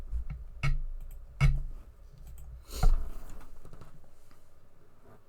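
Keys clacking on a computer keyboard while entering a command in a mod tool: three or four distinct, fairly loud taps spaced apart, each with a short resonant thump, then a fading tail.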